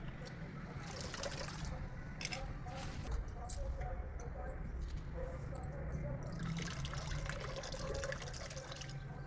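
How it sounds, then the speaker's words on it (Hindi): Running water pours steadily while saag greens are washed and a pot is filled outdoors, a continuous splashing, trickling rush with clinks and knocks of handling throughout. "अभी खुले पानी में इसको अच्छे से धो के और उसको पतीले में डाल के"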